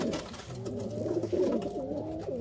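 Pigeons coo softly and continuously, a low warbling burble repeated over a couple of seconds at close range, with no talk.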